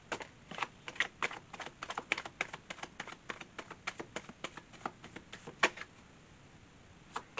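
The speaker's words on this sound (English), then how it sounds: "One more shuffle, then I'm gonna start the reading." Tarot cards are shuffled in quick riffling bursts, a rapid series of crisp, close, fairly quiet flicks and snaps with a brief pause near the end and no talk.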